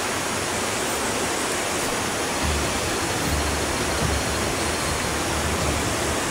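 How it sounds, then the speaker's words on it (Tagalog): A river flows far below, a constant dense roar of rushing water like a waterfall, steady and even from start to end with no voices. "Sa baba, pinakababa, ilog yan."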